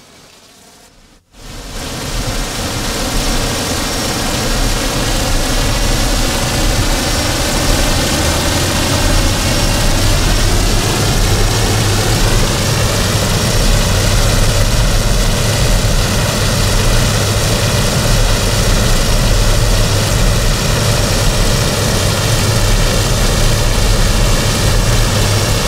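Blackburn Buccaneer's twin Rolls-Royce Spey turbofans running up in the X-Plane flight simulator, a sudden loud roar after a click that builds into a steady rushing drone with rising whine, continuous and close.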